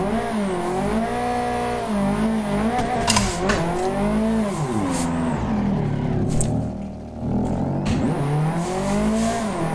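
Racing sim video game with a DWG car, engine revving up and down through gear changes, with tire squeal and a steady loud drone of acceleration throughout.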